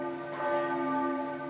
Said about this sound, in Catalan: amb el so de les campanes de fons